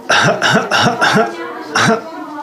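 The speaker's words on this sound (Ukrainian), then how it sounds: "покашляйте." Five rough coughs in a row, fairly close and loud, the last one after a short pause, with some voice in the background.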